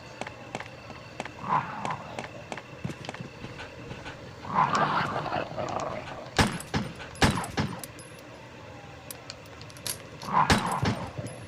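Dogs in a Resident Evil video game growl and snarl in several short bursts, fairly faint, broken by sharp loud cracks and thuds.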